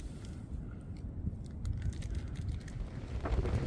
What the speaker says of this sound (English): Okay, so it's really windy.